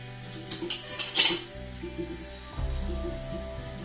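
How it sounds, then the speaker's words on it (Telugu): A cooking pot is set on a lit stove for sugar syrup, with close metallic clinks and clatter followed by a low steady hum from the burner. "ముందుగా స్టవ్ ఆన్ చేసి గిన్నె పెట్టుకున్నానండి"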